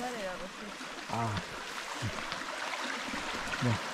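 Flowing stream on a wild trail in the Sierra del León, Uruguay, a constant wash of water noise running beneath people talking in short bursts.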